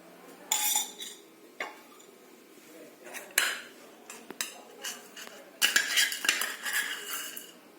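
A spoon clinks and scrapes against a pan on a lit stove as a spoonful of oil goes in, several sharp metallic knocks spread unevenly over the moment, close and fairly quiet.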